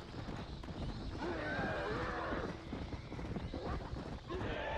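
A horse neighs and gallops with steady hoofbeats in Red Dead Redemption: Undead Nightmare, the whinnies rising clearly over continuous game ambience and hoof noise.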